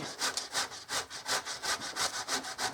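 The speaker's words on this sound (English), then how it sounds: "let me get all the rest of these grated" Potatoes being grated by hand for freezer hash browns, a steady rhythmic rasping at roughly four strokes per second, close and fairly loud with no voices.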